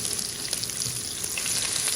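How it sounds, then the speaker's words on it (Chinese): Scallion and ginger frying in hot oil in a wok over high heat make a steady, close sizzling hiss with scattered tiny pops, heard alone. "先用大火把油烧热，油烧热以后下入葱姜"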